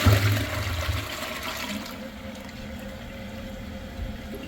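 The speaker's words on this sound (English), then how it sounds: "Let's have a look at a flush." A Liberty Pumps Ascent II macerating upflush toilet flushed with a quick press and release gives a short, loud rush of water with a low rumble at the start, then settles into a softer, steady trickling wash.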